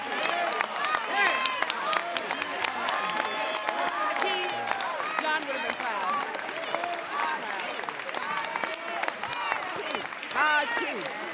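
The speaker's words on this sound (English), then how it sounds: "you're applauding like you beat the bill" A crowd applauds with dense, steady clapping and some cheering, and voices babble throughout.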